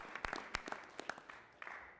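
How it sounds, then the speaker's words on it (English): Scattered clapping from a small audience at a city council meeting honoring a student award winner, a few sparse claps in a quiet room, fairly faint and distant. "Big round of applause for Anya, please."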